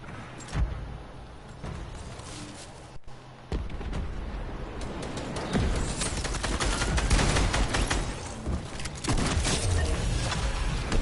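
Gunfire in Fortnite, a run of sharp shots and rapid bursts over a steady game din, growing denser and louder toward the end.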